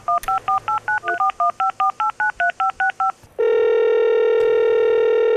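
A telephone keypad dials a rapid string of about fourteen short touch-tone beeps, each a clear two-note pip, followed by a steady continuous tone, loud and close with no talking.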